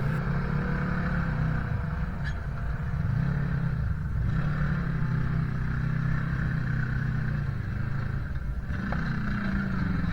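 A Kawasaki off-road vehicle runs at Sand Hollow with a continuous loud, droning engine roar that rises and falls slightly, heard close up with no speech.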